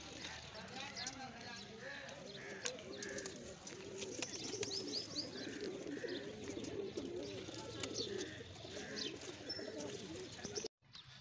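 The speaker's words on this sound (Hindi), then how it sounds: "ये हमारी बस्ती के खूबसूरत कबूतर।" Pigeons coo repeatedly in soft, rhythmic bursts, several birds close by in a village over a busy background with faint clattering and other ambient noise.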